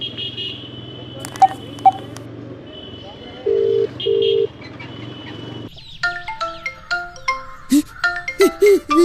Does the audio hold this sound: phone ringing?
yes